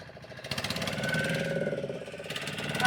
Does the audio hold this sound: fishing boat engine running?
yes